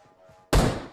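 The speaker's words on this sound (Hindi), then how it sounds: "तो मैंने एक ग्रेनेड को कुक करके फेंका।" A cooked grenade thrown in a mobile battle royale shooter, a quiet lull then a sudden loud booming thud that decays over the final half second.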